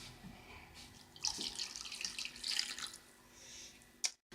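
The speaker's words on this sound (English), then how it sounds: "So now this boiling water into the jelly cubes." Boiling water is poured from a kettle onto orange jelly cubes in a bowl, a soft splashing trickle that swells for a few seconds and then stops with a small clink.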